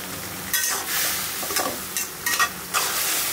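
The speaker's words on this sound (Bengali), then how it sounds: "সবজি টমেটোগুলোকে যে এভাবে করে করে ঘেটে দেবো তাহলে একটু জুসি জুসি থাকবে" Vegetables and tomatoes are stirred in a sizzling frying pan, with repeated scraping strokes over a steady hiss of frying, close and fairly loud.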